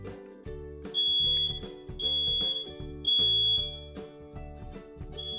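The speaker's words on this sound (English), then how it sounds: "The smoke detector is very, very important because this is definitely a life or death, life-saving task there" A smoke detector alarm beeps in a few long, shrill tones over background music, sounding clearly as a service-dog task cue.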